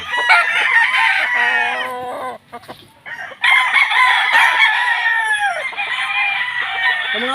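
Raptor straight comb gamefowl roosters from Pampanga crow loudly and close at hand in long, overlapping calls, broken by a brief quieter pause before another rooster takes up a sustained crow.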